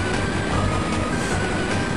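Steady rumbling of a video game train in motion, a dense continuous roar with faint rhythmic clatter, heard from inside a carriage with no voices.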